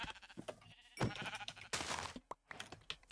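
A Minecraft sheep bleats in short, nasal cries, close and fairly clear, amid bursts of game noise.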